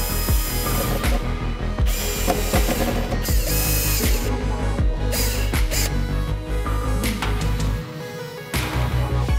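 Screws being driven into the edge of a 4-foot aquarium tank with a power drill, heard as loud, close, repeated bursts of whirring and ratcheting that stop and start, with no talking.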